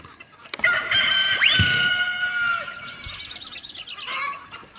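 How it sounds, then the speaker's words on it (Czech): A rooster in the Polda 6 video game crows once, a loud rising call held for about a second, followed by softer clucking and chirping hen sounds that continue alone. "A teď podráždíme znovu kohouta a probuď se pankráci."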